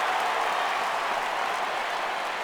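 Baseball crowd in the video game MLB 15: The Show breaking into sustained applause, a dense, even wash of clapping and cheering from a large stadium audience, steady and moderately loud throughout.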